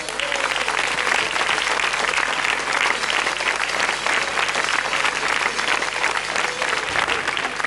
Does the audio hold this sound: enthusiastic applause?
yes